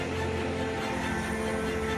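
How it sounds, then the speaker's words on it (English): A Boeing Dreamliner jet departing Heathrow Airport gives off a steady, loud roar with a droning tonal hum that holds unchanged throughout, with no voices. "24 minutes after the Dreamliner was meant to leave, it's finally on its way."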